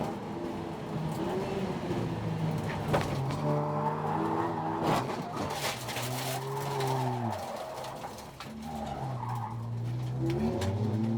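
A 750MC Roadsports race car spins at Croft after hitting the curb and collects another car, tires squealing in repeated wavering bursts over roaring engines as other cars scatter.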